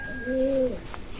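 A single soft, low coo from racing pigeons in a fancier's loft, brief and fairly close against quiet background noise.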